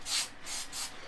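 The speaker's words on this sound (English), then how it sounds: "normally when using spray glue like I'm about to use" Three short hissing bursts of spray glue from an aerosol can, close by, each lasting a fraction of a second.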